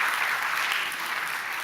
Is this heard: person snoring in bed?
no